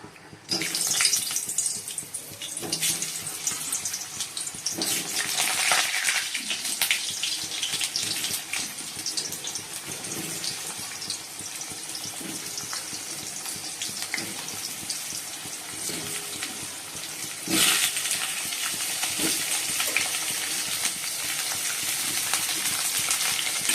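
Potatoes fry in hot oil with a steady, fairly loud broadband hiss and sizzle that swells into a stronger surge partway through and continues to the end.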